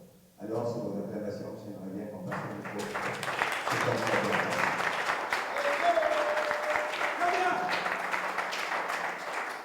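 Audience applause at a press conference of the Jamais 2 sans 3 collective swells from a brief voice into sustained, dense clapping from a crowd, staying loud and steady to the end.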